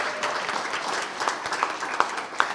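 Applause at a community gathering after a call to clap for a speaker, a dense steady patter of hands with a few louder individual claps standing out near the end.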